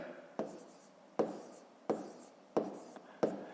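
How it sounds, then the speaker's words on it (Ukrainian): Numbers written by hand on paper while working a long division problem, five distinct close scratchy strokes spaced roughly evenly, each starting sharply and fading, against quiet room background. "Записуємо тоді 365,"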